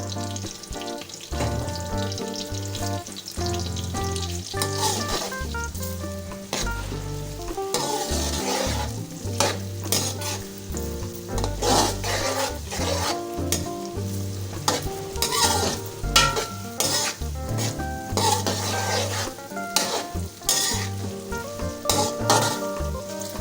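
Onions browning in hot oil in a pot for Bombay chicken biryani, with a loud continuous sizzle and repeated stirring scrapes and clinks of a utensil, up close with no voices.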